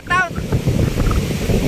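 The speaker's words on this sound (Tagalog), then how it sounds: "Ang lalaki ng alon." Strong wind buffets the microphone as large sea waves roar on the beach at Mauban, Quezon, with a person speaking briefly at the start.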